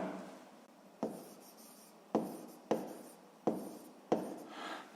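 A pen writes on paper in several distinct bursts of scratching strokes, each starting sharply and trailing off, close and alone with no voices.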